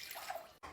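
Warm water poured from a cup into a bowl for sourdough dough, a brief soft splashing trickle close by that cuts off abruptly near the end.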